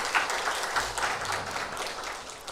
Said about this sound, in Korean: 우리 감사의 박수, 격려의 박수 하겠습니다.